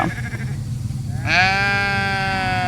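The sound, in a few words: sheep bleating in a barn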